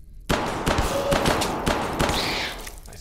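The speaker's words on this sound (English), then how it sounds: "Oh, you're shooting the crab." Gunfire in a spelunking horror game aimed at a crab creature: several sharp shots in a quick irregular series, close and loud, with a short tonal effect near the end.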